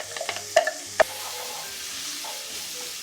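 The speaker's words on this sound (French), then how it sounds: "Et je vais faire revenir ail et oignon pendant 5-6 minutes jusqu'à ce que ça soit bien doré." Garlic and onion frying in oil in a sauté pan give off a low, even sizzle and hiss, opened by a few quick knocks and scrapes of a utensil against the pan, then the frying continues alone.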